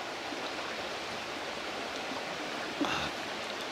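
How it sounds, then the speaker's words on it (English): A river's running water flows in a steady, soft, broadband rush near a woodland campsite, continuous and fairly faint with one small knock near the end. "The sound of the running water, it's like therapeutical."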